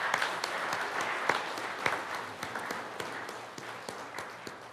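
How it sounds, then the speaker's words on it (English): Congregation clapping hands during a Saturday evening Mass at Ascension church, a soft, sparse patter of individual claps from a modest crowd in a reverberant room, fairly faint and tapering off. "Let us clap our hands today."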